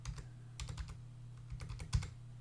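Quick bursts of keyboard typing, close and soft, in a few short clusters of keystrokes.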